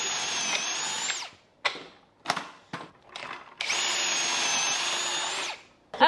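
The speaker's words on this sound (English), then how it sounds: "Whitney has very kindly drilled 3/4 inch pocket holes on the back side of this" A drill bores 3/4 inch pocket holes through wood held in a Kreg jig, two sustained high whines of about a second and two seconds, separated by clunks and handling knocks.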